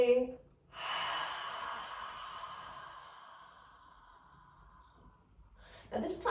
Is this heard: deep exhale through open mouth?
yes